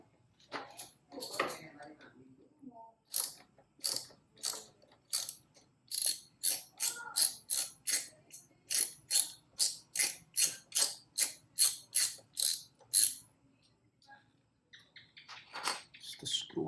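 A screw being backed out of the shifter linkage on a Harley Davidson Fat Bob 114 with a ratcheting tool, a long run of crisp evenly spaced clicks, close and clear, with a few handling noises before and after.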